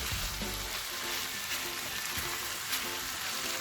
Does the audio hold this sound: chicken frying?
yes